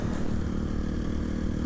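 KTM 350 motorcycle ridden near Barrow, Alaska, a steady close engine drone with rumbling and wind noise, continuous and loud without talk.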